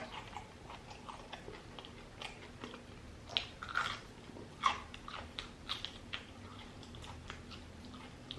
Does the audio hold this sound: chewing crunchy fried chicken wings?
yes